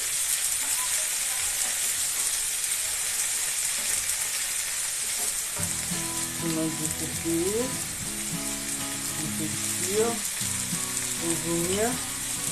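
Chopped tomatoes frying in a pan make a constant hiss and sizzle, with spatula scrapes and clatter joining halfway through and repeating in bursts.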